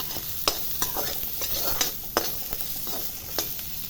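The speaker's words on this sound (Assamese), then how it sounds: "যিখন কেৰাহীত তেল ৰৈ গৈছিলে তাতে সেই 6-7 ফুলামান নহৰু আৰু এই গোল গোলকৈ কাটি লোৱা পিঁয়াজকেইটা দিলোঁ" Garlic cloves and sliced onion rings fry in oil in a wok over low heat, giving a constant sizzle with repeated scraping clicks as they are stirred, close and without talk.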